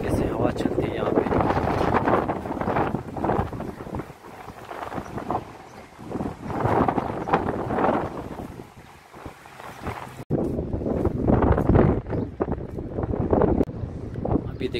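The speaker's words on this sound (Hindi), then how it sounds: "देख सकते हैं किस तरीके से हवा चलती है यहाँ पे।" Gusty wind buffets the microphone outdoors in Bahrain at a motorbike licence test area, a steady broadband rumble that swells and dips for the whole stretch, with someone talking over it.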